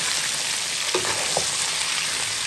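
Onions fry in a hot pan as they are stirred, giving a continuous dense sizzle with occasional scraping strokes, close and steady, and no one talks.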